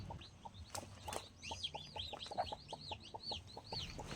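A broody hen settled on her eggs gives a rapid, regular run of soft clucks, close and fairly quiet, with faint chirps from other birds behind.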